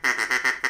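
A goose honks five times in quick succession, close and loud, in a nasal, evenly spaced burst lasting under a second, with nothing else audible.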